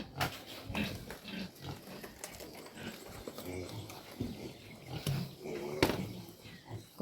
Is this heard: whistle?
no